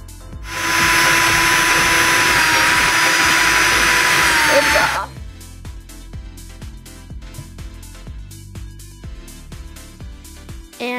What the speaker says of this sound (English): because I had to drill two holes, so I actually got an oval to fit the cable through